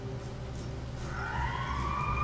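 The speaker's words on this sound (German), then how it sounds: "Sirene bedeutet nicht so Gutes." A siren in the video game Mirror's Edge Catalyst wails with rising, sweeping tones that swell in over steady low background hum, moderately loud and growing.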